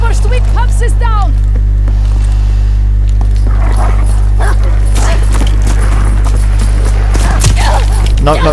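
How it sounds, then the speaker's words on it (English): Dogs in the Call of Duty video game bark and whimper, with yelps and short barks under a loud, constant game hum and people talking over it. "We've lost one of our dogs."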